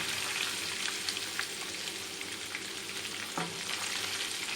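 Garlic and curry leaves fry in hot oil for the tempering of an Andhra chilli pickle, giving a steady, close hiss of sizzling with a few faint stirring clicks and no talking.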